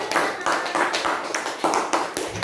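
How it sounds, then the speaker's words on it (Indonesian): Sixth-grade elementary pupils clap in a classroom, a brisk burst of quick, uneven hand claps close by that swells in short waves and carries on for a couple of seconds. "Beri tepuk tangan"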